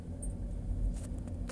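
A Toyota Innova with its ABS warning light on and a suspected ABS pump noise fault gathers speed, giving a low, steady engine rumble with faint rises and no talk.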